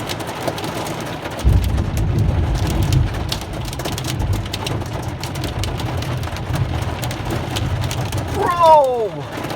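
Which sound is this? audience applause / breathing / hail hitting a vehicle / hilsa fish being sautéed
hail hitting a vehicle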